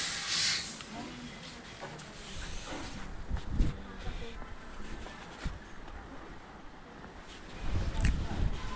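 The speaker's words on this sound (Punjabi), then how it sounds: "ਸਵੇਰ ਦੀ ਬਹੁਤ ਹਵਾ ਚੱਲਦੀ ਅੱਜ ਹਵਾ ਨੇ ਤੰਗ ਕਰੇ ਪਏ ਅੱਜ" Strong morning wind blowing outdoors in a farm setting where a tractor trolley is being loaded with sugarcane, a steady rushing roar with louder gusts near the start and end, while a voice talks over it.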